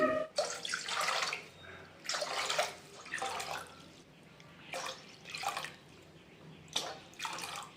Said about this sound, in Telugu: ఒక ఆరు గ్లాసులు వాటర్ పోసుకోవాలి